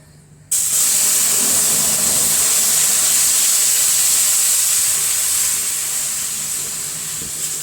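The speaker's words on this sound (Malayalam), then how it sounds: "തിളച്ച വെള്ളം ഒഴിച്ചു കൊടുക്കാം കേട്ടോ" A loud, sudden hiss of steam erupts as boiling water hits a hot pan for upma, holding steady and then slowly fading.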